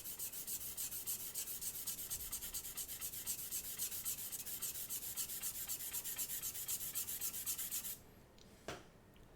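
Charcoal is rubbed and smoothed across a cloud drawing, a close, steady rhythmic scratchy rubbing that continues for several seconds, then stops, followed by a brief soft knock.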